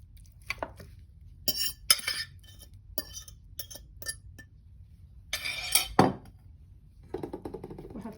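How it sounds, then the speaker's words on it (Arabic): A cauliflower mixture is spooned into a baking tray greased with olive oil, with scattered metallic clinks and taps of utensil against tray and soft scraping between them, close and fairly quiet. "هحط الخليط بتاعنا ده كله في الصينيه"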